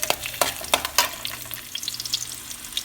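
Green chilies and garlic sautéing in a hot pan, a soft sizzle broken by a few sharp crackles and stirring scrapes, close and fairly quiet.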